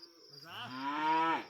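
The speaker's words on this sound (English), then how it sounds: "I see you found some cows." A cow lets out one long, close, rising moo that swells to its loudest near the end, heard at a country farm after dark.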